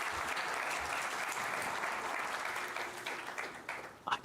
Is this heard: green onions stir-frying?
no